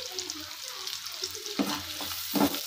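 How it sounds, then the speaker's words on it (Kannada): Onions fry in a pan for egg curry, giving a faint, quiet sizzle with a few soft stirring scrapes. "ಈರುಳ್ಳಿ ಹಾಕ್ಕೊಂಡು ಚೆನ್ನಾಗಿ ಫ್ರೈ ಮಾಡಬೇಕು"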